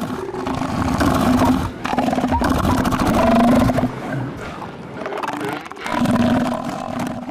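A male elephant seal on the Falkland Islands bellows in long, loud, throaty roars with a pulsing guttural rattle, repeating in several drawn-out bursts separated by brief breaks.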